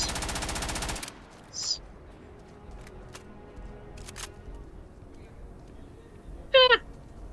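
A modified Old Earth assault rifle in the video game Starfield fires one loud rapid burst lasting about a second. Quiet follows, broken by a few faint clicks and a short electronic chirp near the end.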